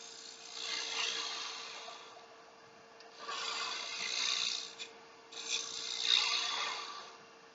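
A carbide cup cutter scrapes spinning wood on a lathe, with the tool held down on the tool rest, in three rasping passes over a steady motor hum, moderately close, with no talking.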